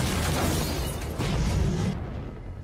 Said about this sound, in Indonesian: mobil tersebut menabrak dan kemudian meledak